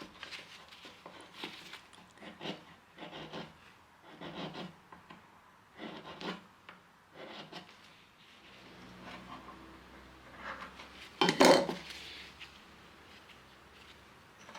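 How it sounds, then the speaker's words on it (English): A chisel scrapes hardened filler off a 1930s Art Deco walnut bureau in a series of close, rasping strokes, each a short burst, with a louder scrape near the end and no talk. "So I continue with the chisel to remove some larger portions of the filler"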